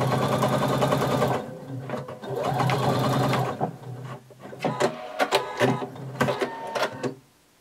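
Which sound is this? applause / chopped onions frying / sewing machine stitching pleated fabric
sewing machine stitching pleated fabric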